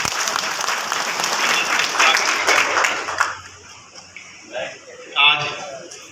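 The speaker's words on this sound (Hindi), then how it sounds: "जरा ताली बजाओ" Loud crowd applause at a Congress party political rally in Shahpura fills the first half, then fades as someone speaks over a microphone.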